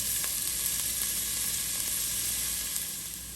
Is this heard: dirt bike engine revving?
no